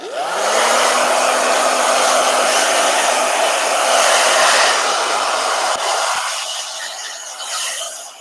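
A blow dryer runs steadily and loudly at close range, a continuous whooshing roar that spins up at the start and eases slightly near the end.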